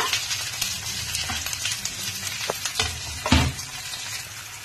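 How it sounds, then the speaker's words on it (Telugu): Onions and mint leaves frying in hot oil in a pan for a chicken gravy, a steady soft sizzle with occasional brief clinks and stirring sounds, close and alone without talk. "ఇప్పుడు కొద్దిగా ఆనియన్ వేగుతా ఉందండి."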